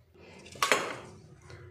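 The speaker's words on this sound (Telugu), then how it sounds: "ఈ జాంపండుని కట్ చేసుకోవాలి చిన్న ముక్కలు కట్ చేసుకొని మిక్సీ జార్లో వేసుకుందాం" A knife chops a guava into small pieces for juice, giving a few quiet clinking taps against a plate or board in a brief burst, with no talking.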